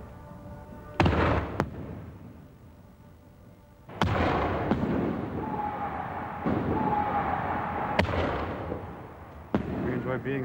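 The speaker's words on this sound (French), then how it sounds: "La bombe part haut dans le ciel et explose juste au-dessus de nos têtes." Firework shells bursting overhead, with several deep booming explosions spaced a few seconds apart, each followed by a rumbling decay and crackle, heard loud and close from directly beneath the display.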